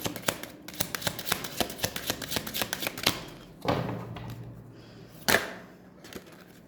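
Tarot cards shuffled by hand during a Hindi tarot reading, a quick run of soft crisp riffling taps for about three seconds followed by a few isolated thumps and slaps as cards are set down, close and fairly quiet.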